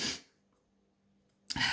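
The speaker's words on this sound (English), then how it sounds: "I don't know why I'm yawning, snivelling, sneezing" A single close human sneeze bursts out at the start, followed by near silence and then a second sharp sneezing or sniffling burst at the end, with no talk.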